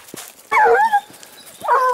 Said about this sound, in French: là j'ai quasiment l'intégralité des chiens